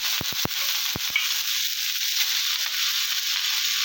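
Torn dried red chillies and bottle gourd leaves drop into hot oil with a few sharp crackling pops, then settle into a steady, bright sizzle that continues close and even.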